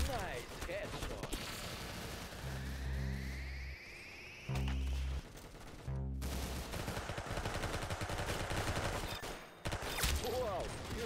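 Gunfire in the Roblox game Arsenal, rapid bursts of electronic shots and automatic fire in clusters with brief gaps, mixed with game music and effects, while a person talks over it.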